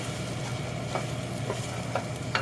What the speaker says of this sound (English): you take your toasted spices and cook, stirring constantly for 1 minute.